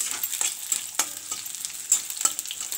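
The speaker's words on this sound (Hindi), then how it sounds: "एवं पियाज को आम हल्का फ्राए कर" Onions frying lightly in a pan, an up-close crackling sizzle broken by repeated spatula scrapes and taps in an uneven rhythm.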